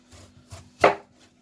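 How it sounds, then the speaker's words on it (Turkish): A knife cuts peeled potatoes into rings for fries, giving a few soft taps on a cutting board and then one sharper, louder chop, close up and without talk. "Kestikten sonra da şöyle halka halka keseceğiz ama çok kalın değil, e, çok ince de değil."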